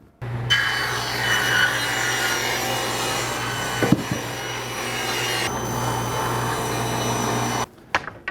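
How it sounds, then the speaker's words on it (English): Three-quarter-inch wood is ripped into thin strips for door stops, a loud continuous saw whine and cutting roar held steady for several seconds, then cutting off near the end. "I typically use 3/4 inch material and just rip down thin strips"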